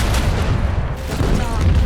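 Heavy macro cannons fire at an enemy ship in Warhammer 40k Rogue Trader, a loud, booming barrage that rumbles steadily throughout.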